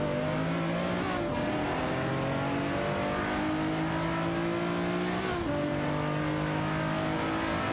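Revving racing video game engines from an Aston Martin DBRS9 and Nissan 350Z GT300s fill the clip with a steady loud drone, climbing through gears with two sharp shift dips and a faint tire squeal.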